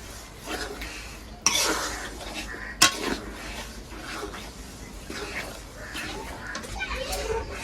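Jaggery with a little water being stirred in a pan to melt it, a utensil scraping and clinking against the metal in steady strokes, with a couple of sharper knocks and faint background voices.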